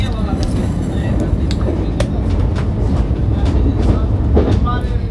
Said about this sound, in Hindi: वैसे ट्रेन अपनी रफ्तार पकड़ चुकी है।